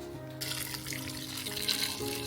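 Hot water splashes and gurgles into a pot holding chicken and rice for broth, a brief continuous pour heard close by with no talking.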